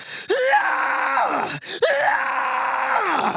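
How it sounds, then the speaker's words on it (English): A singer demonstrates full yell screams, two long, loud, strained vocal yells, each rising sharply then sustained and raspy, separated by a brief breath, with no accompaniment. "So let's say I want to go full yell."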